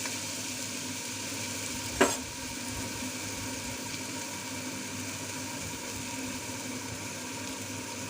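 Chana dal curry with ridge gourd being stirred in a pan to stop it burning, a steady soft sizzle and scraping throughout, with one brief clink of the spoon against the pan.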